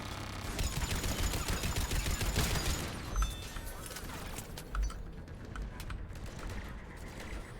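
Turret gunfire in the video game Mass Effect 3, a dense rapid burst of repeated shots for the first few seconds, then sparser scattered impacts and game effects, fairly loud and busy.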